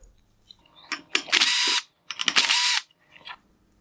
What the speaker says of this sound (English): Next, I will remove the Phillips head screws holding on the cutoff shield.